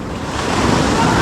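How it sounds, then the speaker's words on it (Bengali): Sea waves roll and break onto the beach at Digha, a loud, close, continuous rush of surf with wind noise buffeting the microphone. "ও ঢেউ দেখো ভাই, ঢেউ"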